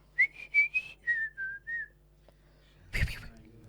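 A person whistles loudly and alone at close range in a short melodic run of about seven notes, the first few bright and rising, then the tune falls; a loud burst of crowd noise follows near the end.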